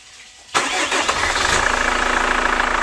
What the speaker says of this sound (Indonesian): Sekarang coba kita starter mobilnya.